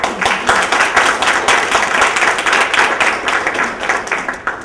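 An audience applauds as a speaker is invited up, dense steady clapping from many hands sustained throughout at a loud, even level.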